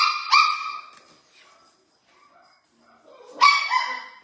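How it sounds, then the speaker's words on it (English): Dogs barking outdoors at some distance, two clear bursts of barks at the start and again near the end with a quiet gap between, no talking over them. "The big dogs are outside barking and she wants to join"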